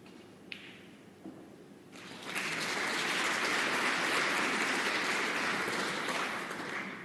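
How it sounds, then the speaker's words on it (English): Snooker crowd at the World Grand Prix 2020 bursts into broad, fairly distant applause for a frame ending on the neighbouring table, rising after a few faint clicks and holding steady. "The applause is for the end of the 3rd frame over on the other table"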